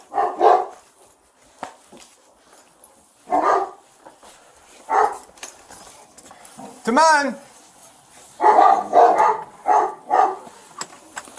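A dog barks and whimpers in short bursts at a police patrol scene, with a rising whine near the middle, while a voice keeps talking over and between the calls.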